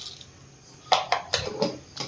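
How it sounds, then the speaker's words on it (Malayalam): Mustard seeds spluttering in hot oil in a pan while cooking Kerala chicken mappas, giving a handful of sharp, close pops and crackles in quick irregular bursts over a low sizzle. "കടുകൊന്ന് പൊട്ടി വരട്ടല്ലേ"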